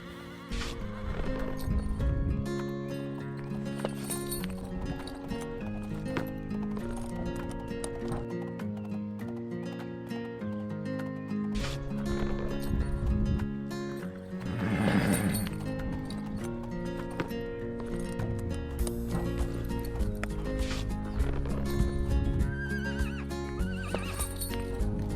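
Horses in the Star Stable game neigh and whinny over steady clip-clopping hooves, with game music running under them. A louder whinny stands out around the middle, and hoof steps continue alongside for the whole stretch.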